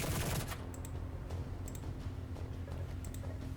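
Weapon fire in the video game Echoes, a Lucid9 fangame: a burst of sharp shots at the start, then scattered clicks and pops over a steady low game hum, fairly quiet.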